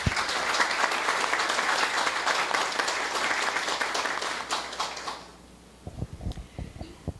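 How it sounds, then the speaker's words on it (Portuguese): Audience applause at a formal OAB Santa Catarina ceremony in Balneário Camboriú, a dense steady clapping from a crowd that fades out after about five seconds, followed by a few scattered knocks and thumps. "E a todos, uma salva de palmas."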